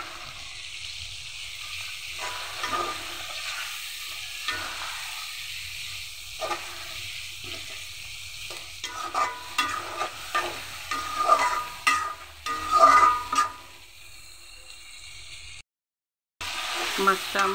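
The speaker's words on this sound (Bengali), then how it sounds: "মাছটা আমার খুব ভালো করে কষানো হয়ে গেছে।" A fish head fries with spices in oil for a Malabar spinach stem chorchori, with a soft steady sizzle and frequent scraping stirs that grow busier toward the end, then a brief cutout.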